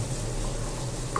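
Boiled beef sizzles in a hot pan with salt while being stirred, a steady close frying hiss with soft scraping and no talking.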